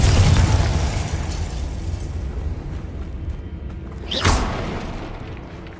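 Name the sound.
Confringo fire spell explosion from video game Hogwarts Legacy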